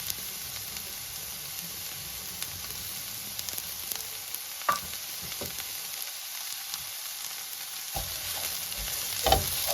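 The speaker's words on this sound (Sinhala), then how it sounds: "මේ ටික පොඩක් බැදෙනවා" Chopped leeks frying in a pan for cheese kottu, a soft continuous sizzle with scattered clicks and scrapes of stirring, fairly quiet and with no voices.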